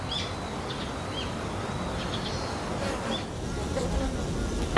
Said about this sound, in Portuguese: Dentro da colmeia, a colônia inteira começa a criar uma onda de som.